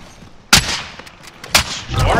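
Two sharp gunshots about a second apart ring out in a multiplayer shooter video game, loud and close, each with a short decay, followed by a rumbling wash of game ambience.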